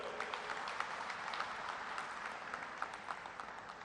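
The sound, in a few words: audience applause at film festival opening ceremony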